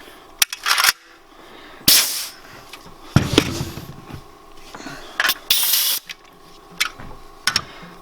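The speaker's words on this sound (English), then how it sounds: "it'll shoot nails all the way from 2-inch all the way to 3 1/4" Pneumatic framing nailer (NR83A) driving 2-inch to 3 1/4-inch nails, with several sharp, separate bangs and bursts of air hiss spread irregularly across the span, fairly close, with no voices.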